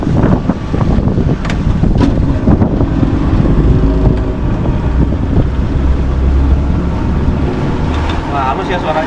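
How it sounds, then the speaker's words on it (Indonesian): Cox V8 diesel outboard engine running on a patrol boat during a sea trial, a loud continuous low rumble mixed with wind buffeting and water rush, with voices talking over it. "Oke, mesin jalan."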